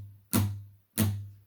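Two short, dampened guitar strums picked with a pick, each a percussive chunk with a brief low ring, spaced about half a second apart.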